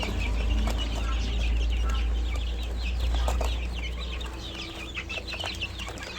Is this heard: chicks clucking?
yes